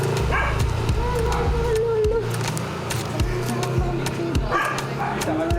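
Street dogs out on a walk give short yips and barks amid close-up street bustle, with a person talking over them throughout.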